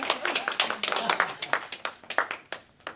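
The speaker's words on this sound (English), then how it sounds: "I'll clap for that." Sharp, uneven hand claps from a small audience at an awards ceremony crackle close by for several seconds and thin out toward the end, with voices mixed in.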